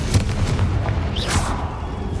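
A Bombarda spell explodes in Hogwarts Legacy, a loud booming blast inside a tomb, followed by a brief crackling burst, heard alone without talk.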